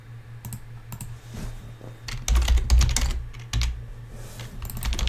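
Rapid clicking keystrokes on a computer keyboard, in irregular bursts with a few heavier thumps from a desk, close and clear against a low steady hum, with no talking.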